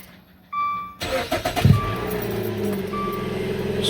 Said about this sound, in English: It's kind of a stalled startup